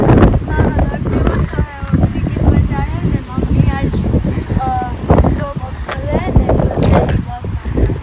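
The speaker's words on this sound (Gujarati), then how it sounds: "હા ને અટાણે એકદમનો પવન નીકળ્યો" Strong wind buffets the microphone outdoors, making a loud, continuous low rumble and gusty roar that runs throughout while people talk over it.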